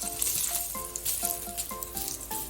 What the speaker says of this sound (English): so in the pan we heat up the oil. First thing we're going to add in is our ginger slices.